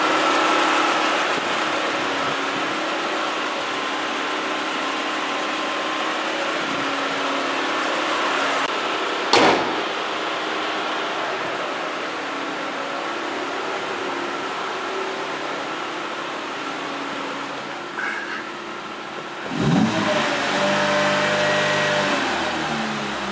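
A Chevrolet Spin with a GM 1.8 engine and automatic transmission accelerates hard, giving a steady deep engine roar that holds for over twenty seconds, with brief thumps and a rising tone near the end.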